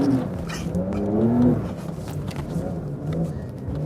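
A Porsche 911 Dakar accelerates and slides sideways on a loose surface, its engine note rising and falling in a close, revving roar with gravel crunching beneath.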